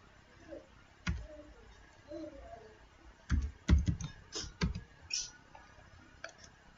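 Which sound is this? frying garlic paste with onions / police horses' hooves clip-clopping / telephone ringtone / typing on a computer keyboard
typing on a computer keyboard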